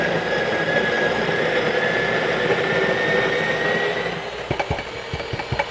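Breville Barista Pro coffee grinder set to grind size 15 runs with a steady, close whirring hum, then stops and gives way to several sharp taps near the end.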